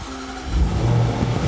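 A 2021 Jaguar F-PACE SVR engine rises in a deep rev, low rumble swelling after a brief lull and holding loud and close for about a second.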